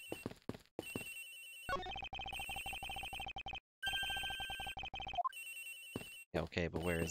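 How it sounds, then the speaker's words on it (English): In the Ace Attorney Investigations video game a cell phone keeps ringing, a loud repeating electronic tone in bursts with short pauses, while game voice blips and other effects sound around it. "Hey, Detective phone. It's ringing from here somewhere, sir."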